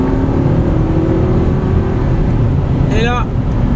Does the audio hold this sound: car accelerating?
yes